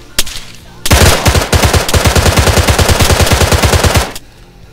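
Automatic gunfire in the video game Arma 3: one sharp shot, then a long, loud, sustained burst of rapid, evenly spaced rounds lasting about three seconds before cutting off abruptly.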